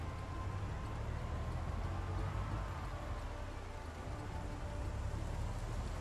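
Steady rain falls in the Project Zomboid video game, a continuous dense hiss over a low rumble that stays even throughout, with no voices.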